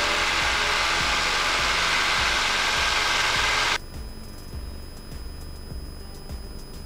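Small airplane engine roaring loud and close during a mountain takeoff climb, a steady broadband drone with rhythmic low propeller pulsing that abruptly drops to a quieter, thinner hum partway through, with no talk.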